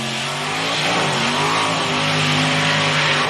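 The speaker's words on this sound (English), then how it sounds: "Monster Trucks getting staged right now." Monster trucks, 10,000-pound vehicles with supercharged alcohol-burning engines, rumble and rev at staging: a dense, continuous loud roar with rising harmonic tones, no pauses, heard close and overwhelming.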